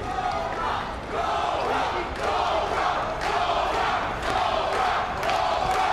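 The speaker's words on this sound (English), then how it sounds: "you hear the clutch, the crowd shouting Cobra" A large crowd at a Karate Combat event shouts and chants "Cobra" in a loud, rhythmic roar that swells and dips repeatedly, echoing through a big arena.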